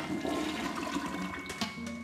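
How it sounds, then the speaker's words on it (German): Toilet flush in the video game Luigi's Mansion 3, a steady rushing gush of water that runs for about two seconds with no talk over it. "So, funktioniert die Toilette denn auch?"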